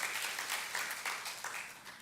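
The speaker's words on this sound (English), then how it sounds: "So we give a round of applause to the School of Social Sciences." A faculty day audience applauds the School of Social Sciences, a soft, diffuse patter of many hands clapping at a distance, steady throughout the brief moment.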